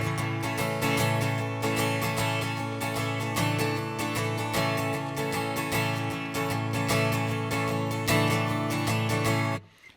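Acoustic guitar strummed in a steady swung sixteenth-note groove for worship-style playing, chords ringing full and loud with rhythmic accent pulses throughout and no talking, cutting off at the end.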